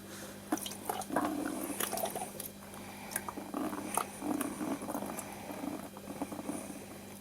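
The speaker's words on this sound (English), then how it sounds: "Let's just tie a little knot in the airline so there's a little slow trickle drip." An aquarium air line in a cherry shrimp tank trickles and bubbles quietly, with soft irregular pops and gurgles spread across the whole stretch at low volume.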